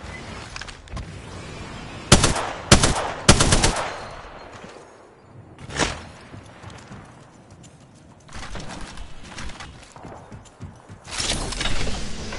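Firefight gunfire in Apex Legends: sharp bursts of automatic shots crack loudly in clusters, with single reports and scattered quieter shots in between amid battle noise.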